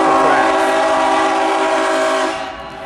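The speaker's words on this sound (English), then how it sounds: "that's a very short train, so they'll clear the tracks, clear the crossing" A short train crossing a road at a level crossing near a drawbridge, heard as a loud, steady rumble with a horn-like tonal hum that holds and then fades toward the end.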